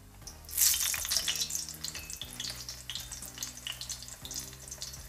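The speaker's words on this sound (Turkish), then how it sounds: "Bu yemeklik olarak kızarttık." Eggplant crackles and sizzles steadily as it fries in hot oil in a pan, with light clinks and occasional splashy bursts, close by and moderately loud.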